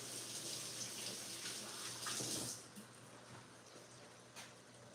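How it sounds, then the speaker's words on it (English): Hands rinsed under a running kitchen tap while cooking, a soft steady splash of water that thins out after a couple of seconds. "I'm gonna give my hands a quick rinse"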